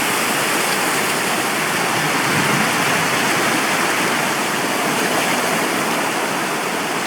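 Running water from a stream being crossed outdoors rushes steadily and loudly, a dense, even roar that holds without pause throughout, with no voices present.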